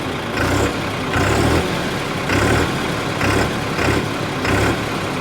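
A New Holland 3630 Special Edition tractor engine revs repeatedly, loud and close, its heavy diesel roar swelling and falling in steady pulses about once per second.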